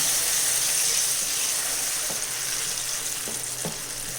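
Banana fries and is stirred in ghee in a pan for Kerala pazham pradhaman, a constant close sizzle and hiss with a few soft scrapes of the spoon against the pan.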